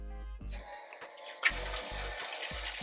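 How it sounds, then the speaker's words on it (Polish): Water draining from a camper trailer's water system, a close steady rush and splash of flowing water that starts after a brief low hum and keeps running. "spuszczamy teraz wodę, czyli przepakujemy nasze układy tu i w kibelku"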